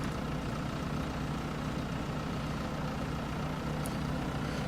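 A tractor engine idles in a farming video game on a farm near Feldkirchen, a steady low diesel rumble that runs evenly throughout at moderate loudness with no voices.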